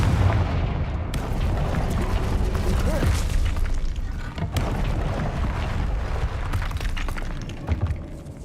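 Confringo fire spell blasts in Hogwarts Legacy: heavy booming rumbles and bursts roll continuously over a dense background of game noise, with a loud crack near the middle.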